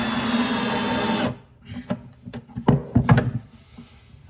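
A power driver sinks a large screw into a plywood tool chest runner with a steady, loud whirr for about a second, followed by scattered knocks and clicks as the tool and wood are handled.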